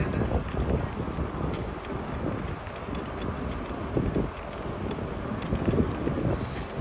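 Headwind rushing past a cyclist riding in New York City at rush hour, a continuous loud buffeting roar of wind against the microphone with no pauses.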